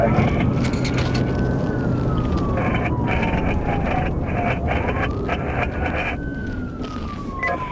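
A wailing siren rises and falls steadily over loud road rumble, as an emergency vehicle passes nearby.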